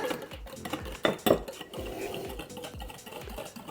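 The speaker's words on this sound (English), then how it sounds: "I'm just going to use a whisk" A whisk beats a no-bake banana cheesecake mixture in a bowl, with rhythmic metallic scraping strokes against the bowl, close and steady, with no speech.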